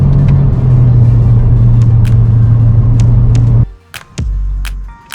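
A car engine with a muffler fitted in place of a muffler delete idles with a loud, steady low rumble, then cuts out, followed by a couple of deep revs and clicks up close.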